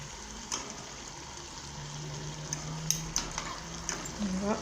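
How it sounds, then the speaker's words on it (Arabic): Brains with cream frying in a pan until crisp give a soft, steady sizzle with scattered clicks of stirring utensils, fairly quiet and close. "نحمرها مليح"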